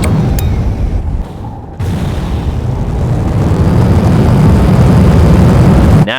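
Rocket engine at full thrust in SimpleRockets2, a JATO-style rocket build, gives a loud, continuous roaring rumble with a brief dip early on, then sustained heavy noise to the end.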